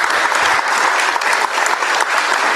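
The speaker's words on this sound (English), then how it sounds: "Give them a round of applause." Steady, dense clapping from a council meeting audience fills the room without a break, loud and close, with no talk over it.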